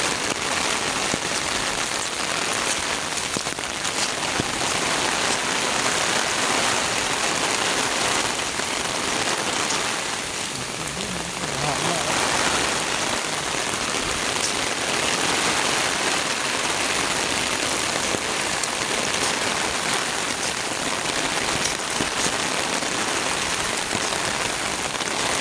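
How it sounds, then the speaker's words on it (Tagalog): Heavy rain pours down with gusting wind, a dense, steady roar of water hitting surfaces that stays loud and unbroken throughout. "Dahil ang lakas ng ulan."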